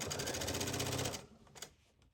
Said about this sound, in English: So I'm sewing all the way to the end.